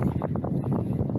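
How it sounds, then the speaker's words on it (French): Steady wind at the seaside with a rising tide nearby, a continuous low rushing buffet against the microphone, fairly loud and unbroken. "On ne va pas rester trop près de l'eau parce qu'il y a du vent"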